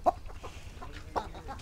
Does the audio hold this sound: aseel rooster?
yes